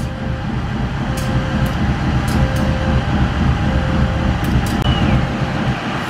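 A local train pulls out of Haur Pugur station in Indonesia, its loud steady engine rumble and rolling drone filling the scene with a few sharp metallic clicks and a faint whistle-like tone.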